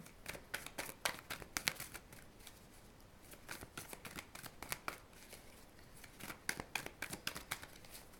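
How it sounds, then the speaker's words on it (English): Tarot cards being shuffled by hand: a steady series of quick, crisp riffling bursts and card slaps, close and fairly quiet, repeating in irregular clusters with no talking. "don't mind the shuffling."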